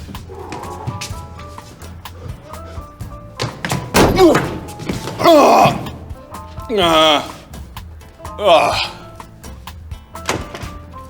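Someone bangs hard on a door with a series of loud, irregular thumps that come between and under raised voices calling out.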